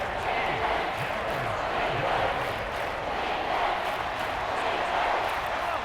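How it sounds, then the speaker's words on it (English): A large football stadium crowd at an NFL preseason game between the Kansas City Chiefs and Seattle Seahawks roars steadily with cheering and shouting, a dense, loud, continuous wash of voices. "the crowd getting into it as we come up on a big 3rd down"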